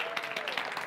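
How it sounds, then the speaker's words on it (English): A brief burst of audience clapping from a crowd at a talk on classroom teaching, moderately loud and dense, lasting under a second. "let's give her a round of applause"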